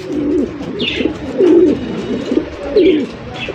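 Pigeons of the fancy Rasgolla breed coo close by in repeated low, throaty rolls, with a few faint higher chirps between the calls.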